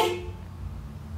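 A car horn on a Nissan S15 gives a single short honk at the start, fading quickly into low idle rumble.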